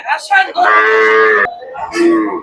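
Cattle at a rural weekly market bazaar in Chandimora, Barura, give a loud, close moo: one long drawn-out call after short grunts, then a shorter second low.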